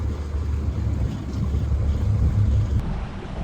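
A fishing boat's engine drones steadily and low as the boat takes off on open water, with rushing wind and water noise filling the clip at a constant, close level and no voices.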